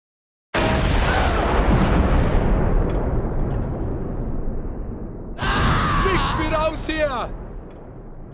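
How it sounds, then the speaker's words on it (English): Heavy gunfire and explosions from a World War II battle at Houffalize in Close Combat 4, with German Panzer Grenadiers caught in crossfire. One loud, dense roar of fire runs almost the whole time, then a second burst swells near the end. "German Panzer Grenadier are caught in a murderous crossfire."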